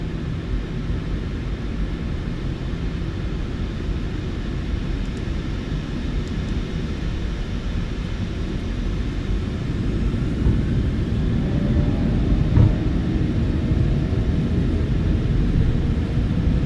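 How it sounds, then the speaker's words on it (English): Simulated PMDG 737-900ER jet engines spooling to takeoff thrust in the MSFS2020 flight simulator: a steady, dense low roar and rumble that swells slightly in the later seconds, continuous throughout with no talk. "Takeoff thrust set."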